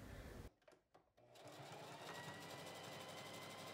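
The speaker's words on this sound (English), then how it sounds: "So I'm gonna fold it like this, long ways, and just sew down here." Domestic sewing machine stitching a folded fabric tube for a dog sweater, starting after a brief pause with short stops, then running in a steady fast close whir to the end.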